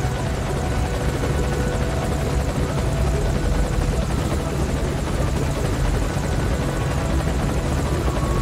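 Helicopter in the Metal Gear Solid V: Ground Zeroes video game, a loud, steady rotor and engine drone that runs without a break and stays close and dominant throughout.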